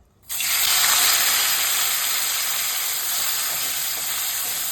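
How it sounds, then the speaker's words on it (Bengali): Sugar, chopped onion and tomato hit hot mustard oil, used after frying pabda fish, with a sudden loud burst of sizzling. It settles into a steady, close hiss that continues alone to the end. "তেলের মধ্যে অল্প করে চিনি দেব, কেটে রাখা পেঁয়াজ, টমেটো দিয়ে দেব"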